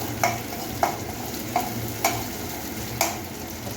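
Vegetables for Hakka noodles stir-fried over high flame, a steady sizzle broken by about six sharp scraping tosses of the spatula in an uneven rhythm, close and clear with no talk.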